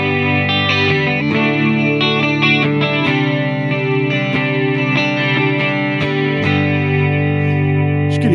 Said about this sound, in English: We're going to start with a Fender Reverb, 65 reverb, and a little bit of chorus